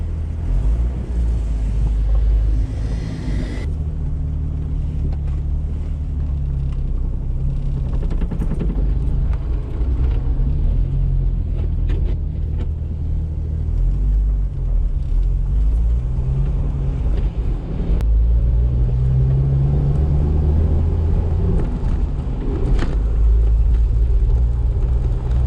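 A 1998 Jeep Wrangler with a 5-speed manual, run again after sitting two years, drives with a steady loud engine rumble and road noise throughout, the engine note rising and falling with gear changes.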